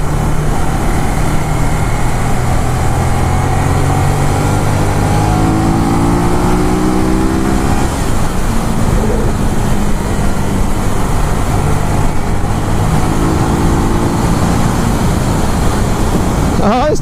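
A 2018 Ducati Monster 821 motorcycle engine drones steadily under wind rush on an English countryside ride, its pitch climbing in repeated sweeps as the bike accelerates and shifts through the gears.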